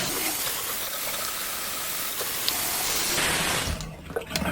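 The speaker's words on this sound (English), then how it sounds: "let me rinse off and we'll get back to you for the next part of the shave" Water runs steadily from a bathroom tap as someone rinses after a wet shave with a 3D-printed razor, a close, continuous hiss and splash that stops near the end.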